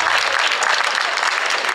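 Audience applause at a sports awards ceremony honoring gymnasts, steady dense clapping filling the hall without a break, fairly loud and continuous with no talk over it.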